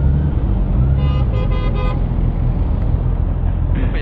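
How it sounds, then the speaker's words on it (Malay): A vehicle horn honks several short times in close succession over loud, steady traffic and engine rumble, heard from a Honda CBR650R motorcycle ride. "Apa yang horn tu?"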